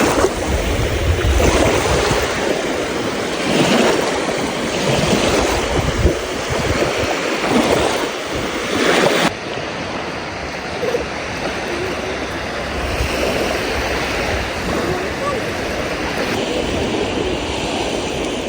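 Sea surf rolling onto the beach at Nabran on the Caspian coast, a steady broadband wash with wind buffeting the microphone, loud and continuous with no talk.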